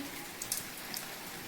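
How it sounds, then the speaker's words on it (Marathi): Soft, steady patter of rain on a surface, quiet and continuous, with a few faint drops standing out. "असा पाऊस चालू आहे बघा"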